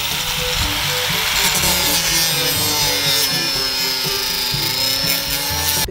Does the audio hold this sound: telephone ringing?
no